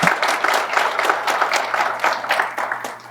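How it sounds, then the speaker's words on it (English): Audience applause at a SECO Energy district meeting, a room of people clapping in an uneven, rhythmic patter at moderate loudness over a low steady hum. "it is deserving of another round of applause"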